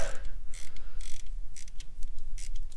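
Ratchet with a 10 mm extra-deep socket loosening a glow plug area bolt on a 1999-2003 Ford 7.3 Powerstroke diesel: a series of quick, close metallic clicks in irregular bursts over a low hum, no talking.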